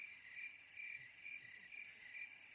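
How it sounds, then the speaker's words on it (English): Crickets chirp steadily in a comedic sound effect, a thin, even pulsing trill repeating through the whole stretch with nothing else heard. "Oh my God, that's a crickets moment."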